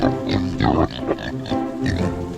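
Pigs on a farm with rotational grazing, several close grunts and oinks in quick, uneven bursts, loud and overlapping throughout.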